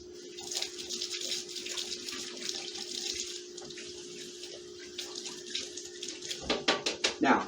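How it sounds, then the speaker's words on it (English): Tap water runs steadily into a kitchen sink as a spoon is rinsed during pasta cooking, a continuous close splashing hiss that turns choppier and louder with clattering splashes near the end. "Now, I rinse that just out of habit."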